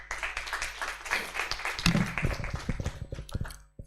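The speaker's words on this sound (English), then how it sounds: "the professor deserves a befitting round of applause" An audience applauds the professor at an Islamic finance and banking event in Uganda, with steady scattered clapping that grows denser, alongside some faint talk.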